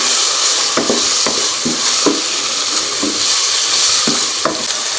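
Fries go into sizzling keema in a cooking pot, and a spoon stirs in a steady rhythm of scrapes and knocks over a loud, continuous hiss of hot oil.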